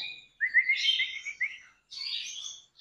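Canary chicks chirp in a breeding room, a run of thin, high tweets followed by a second burst of chirping after a short pause, close and fairly clear.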